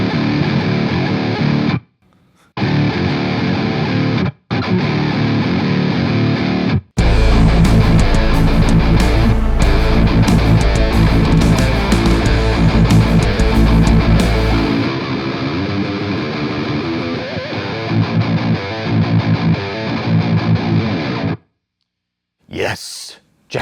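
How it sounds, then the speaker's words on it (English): Heavily distorted Jackson electric guitar riff through an octaver, with a thick, octave-doubled low end, played in bursts with short gaps, then a long sustained section before stopping. "this riff is a fun one because it uses an octaver and a bunch of distortion"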